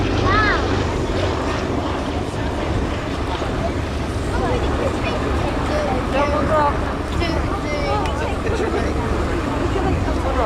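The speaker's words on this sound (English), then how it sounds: "They're simulating engine problems." Airshow aircraft making a low pass while simulating engine problems at Shoreham, a loud sustained engine roar with an open-air crowd murmuring and voices around it.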